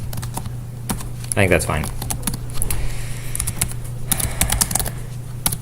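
Rapid clicky keystrokes rattle on a computer keyboard in uneven bursts, close and crisp, while a person talks briefly over the typing.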